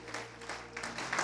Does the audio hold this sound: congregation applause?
yes